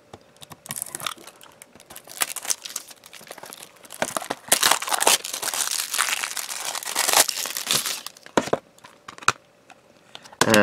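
Plastic and paper packaging of a Samurai Shodown Nintendo Switch game being opened: close-up crinkling, tearing and rustling come in bursts, busiest in the middle, with a few sharp clicks and no speech.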